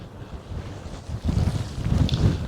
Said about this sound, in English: It's dry, it's breezy, forecast for about 30-mile-an-hour winds at the top